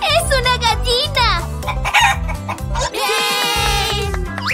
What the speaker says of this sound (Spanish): ¡Es una gallina!